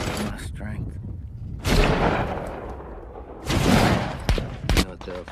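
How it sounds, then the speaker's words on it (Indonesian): Loud bursts of gunfire crack and roll in heavy waves, with sharp single shots near the end and voices mixed into the din. "Kapten Miller menugaskan untuk Jackson memberikan tembakan terbaiknya terhadap musuh yang posisinya sulit dijangkau."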